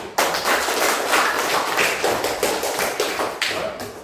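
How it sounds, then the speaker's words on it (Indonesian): Applause from a classroom of students, a dense, steady patter of many hands clapping up close that runs unbroken for about four seconds. "kasih tepuk tangan dulu"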